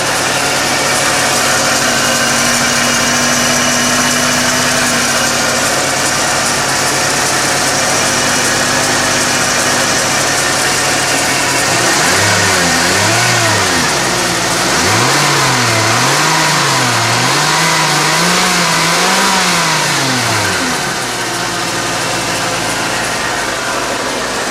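A 1995 Ford F-250 4x4 with a 351 Windsor V8 runs close by. It holds a steady idle, then revs up and down several times in a wavering pattern before settling back. No voices are heard.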